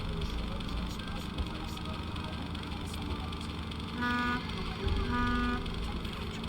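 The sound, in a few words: car horn honking, from the Nancy Drew video game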